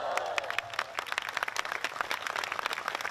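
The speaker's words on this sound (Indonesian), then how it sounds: "Nah, makin tepuk tangan hari ini." A crowd at a large Islamic religious gathering (tabligh akbar) held by the West Java regional police claps steadily and fairly loudly throughout, a continuous close patter of many hands.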